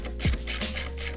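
A ratchet or wrench tightens a 12mm exhaust nut on a Honda Grom motorcycle, giving a short run of close metallic clicks and scrapes in quick succession, with no talk.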